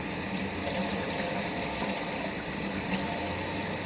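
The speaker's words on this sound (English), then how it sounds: "Just going to rinse them again." Chopped onions rinsed under running tap water, a steady close rushing splash that continues evenly without a break, with no talking over it.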